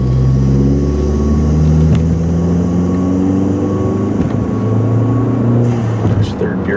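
Car engine pulls hard in third gear on a commuter drive, a loud steady drone with rising harmonic whine as revs climb, road rumble underneath and a brief gear-change dip near the end.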